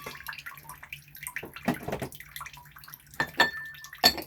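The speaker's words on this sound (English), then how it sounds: "Cheese graters in the dirty water." Metal cheese graters sloshed and clattered in dirty water, with intermittent splashes, drips and scraping knocks close by, coming in irregular bursts between quieter gaps.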